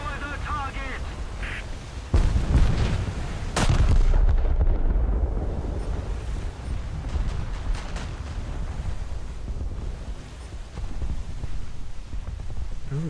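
Heavy warship guns in a naval battleship video game fire with a sharp blast near the two-second mark and another just before four seconds, then a loud sustained rumble and roar of the salvo settles over the remaining seconds.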